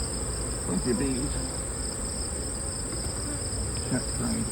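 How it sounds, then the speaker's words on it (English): Honey bees buzz around an opened beehive during an inspection, a steady dense drone close to the hive with faint higher whines from individual bees passing near, continuous and without speech. "Plenty of bees."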